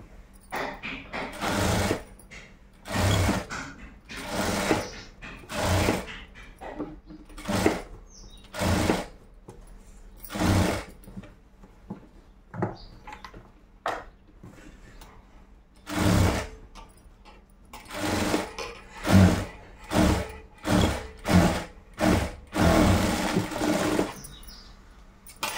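A sewing machine stitches a blouse along marked lines in repeated loud bursts of whirring, starting and stopping with short pauses between runs.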